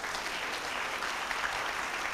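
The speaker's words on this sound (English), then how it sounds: "I thought you were clapping for Jesus." An audience at a church sermon bursts into sustained applause, a dense wash of many hands clapping steadily with no voices on top.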